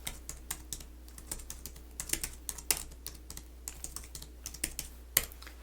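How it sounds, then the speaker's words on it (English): Typing on a scanning keyboard at a thrift store counter, a steady run of light, close key clicks with no talking. "We're going to go to our scanning keyboard"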